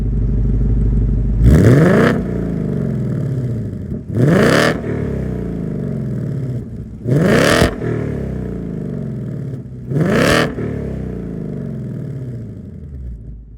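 A 2024 Ford Mustang GT's V8 engine with quad-tip exhaust revs hard four times, each roaring burst dropping back to a rumbling idle between them.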